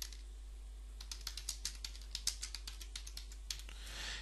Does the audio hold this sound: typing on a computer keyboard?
yes